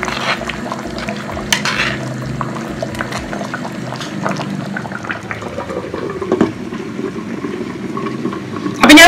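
Milkfish curry being stirred in a pan on the stove, a close bubbling, scraping stir that goes on steadily for several seconds, with a sharper clatter at the very end.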